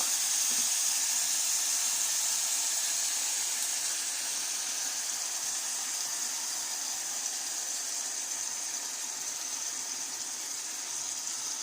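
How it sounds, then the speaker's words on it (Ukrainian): Sauce poured into a hot pan of cauliflower that has a little oil in it, giving a steady, fairly loud sizzling hiss that holds without a break. "Зараз я буду заливати нашу заливочку."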